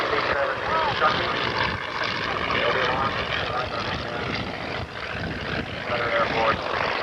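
Aircraft on the runway at an air show, engines and propellers producing a steady, broad roar that fills the whole stretch without letting up.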